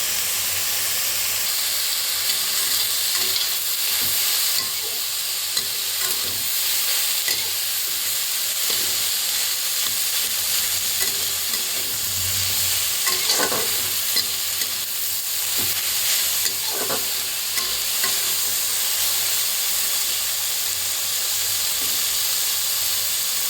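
Salted eggplant slices fry in hot oil in a pan with a steady loud sizzle throughout. Occasional scrapes and stirs come through close up, and no one talks.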